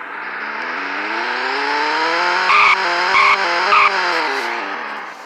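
A Mini Cooper engine in the Roblox game Greenville hums with a steady rising and falling tone, broken by three short sharp tire squeals near the end.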